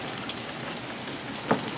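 Rain falls during Hurricane Irene near a front porch and deck on the Chesapeake, a soft, steady hiss of drops with one brief louder splash near the end.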